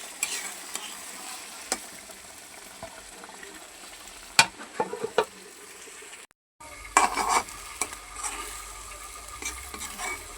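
Pointed gourd (potol) tempering sizzles steadily in a hot pan, with scraping stirs and a few sharp utensil knocks. The sizzle cuts out briefly midway, then returns.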